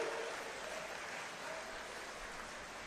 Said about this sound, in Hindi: एक बार खड़े होकर ताली बजा दो।